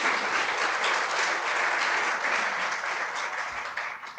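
Sustained applause from an audience at a Supe Tank 4.0 event held at the University of San Diego, honoring the sponsors: a dense, steady wash of many hands clapping, even in loudness throughout and easing slightly at the end.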